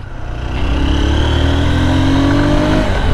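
A Honda Hornet 160R motorcycle pulls away in first gear, its engine note rising steadily into a sustained, fairly loud drone that climbs in pitch over a few seconds, with no talking.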